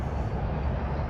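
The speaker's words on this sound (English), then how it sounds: "So you can see, you can hear that big truck going by." A big truck passes on a nearby interstate beside vacant land in Charleston, South Carolina, as a steady, dull low rumble throughout, moderately loud with no talk.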